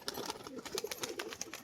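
A male pigeon coos in courtship display beside a hen, its soft throaty calls repeating in a quick, uneven rhythm close by against a hissy, cluttered background.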